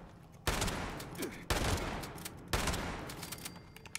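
Gunfire in the game Fallout 76: three sharp, loud shots about a second apart, each followed by a long rumbling decay, over a dense background of game noise.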